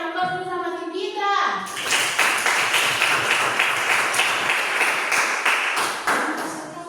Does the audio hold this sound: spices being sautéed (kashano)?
no